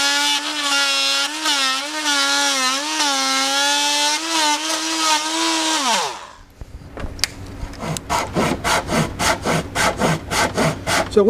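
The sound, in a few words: Japanese hand saw cutting an old wooden dresser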